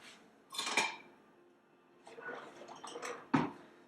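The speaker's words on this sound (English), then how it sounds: "And now it's time to whisk," Whisking hot chocolate mix: a whisk clinks and scrapes against the cup or bowl in two separate bursts of metallic clatter, close and moderately loud, with a sharper knock near the end.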